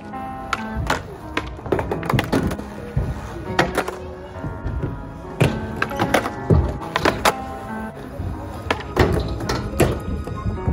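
Skateboard tries at a switch frontside tailslide: repeated wooden board thunks, pops and wheel rattles arrive in irregular bursts, fairly close, over steady background music.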